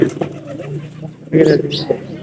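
A pair of pigeons coo in low rolling bursts close by, with a louder call near the middle, mixed with someone speaking.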